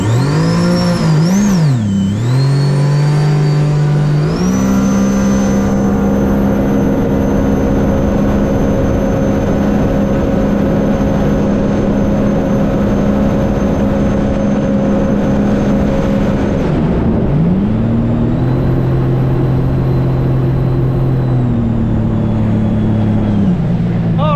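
A 2021 Sea-Doo RXT-X watercraft with a Rotax 300 engine, Stage 1, revs in sport mode: a loud sustained engine whine that climbs, holds high for a long stretch, then drops and settles again.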